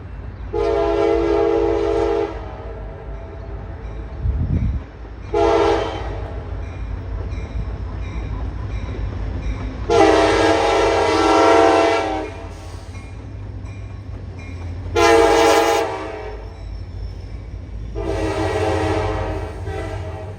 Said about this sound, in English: L164 would be the train to finally break the silence on this Monday afternoon